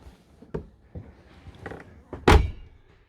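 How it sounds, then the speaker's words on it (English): A door on a Carthago Chic C-Line i5 motorhome swings shut with a single solid thunk, preceded by a few softer clicks and handling knocks, close and brief. "and close the door."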